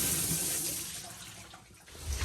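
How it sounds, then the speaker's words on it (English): Water leaking from upstairs through a ceiling and an air conditioner trickles and splashes steadily at close range, fairly quiet with no talking. "Look at the water coming from upstairs."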